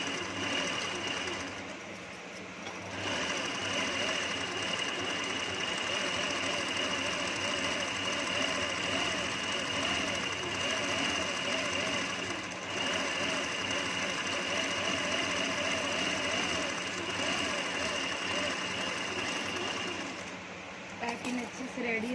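A sewing machine stitches piping onto the neck of a potli bag, running steadily with a hum and rapid mechanical chatter for nearly the whole stretch, briefly pausing near the start and slowing at the end, alongside faint background noise.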